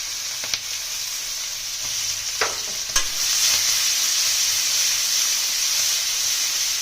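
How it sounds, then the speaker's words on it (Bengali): Onions fry in oil for bhola fish curry, a steady hissing sizzle with a few sharp stirring knocks early on, close and fairly loud throughout. "পেঁয়াজগুলো একটু ভাজা ভাজা করে নিয়েছি"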